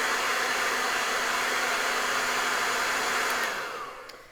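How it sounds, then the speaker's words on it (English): A hair dryer blows steadily on fresh white paint on an eagle painting, a loud continuous whoosh that runs for several seconds before tapering off at the end. "I'm going to dry that white paint"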